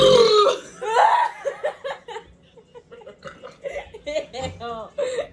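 A loud burp after drinking Sprite breaks out at the start, followed by chuckling, laughter and chatter in a close, indoor setting.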